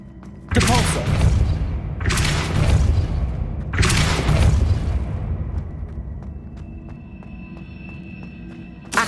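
Three heavy booming bursts from the Depulso force spell in the Hogwarts Legacy video game, each a loud broadband blast with a rumbling decay, spaced about two seconds apart, followed by fading game ambience and a small thump at the end.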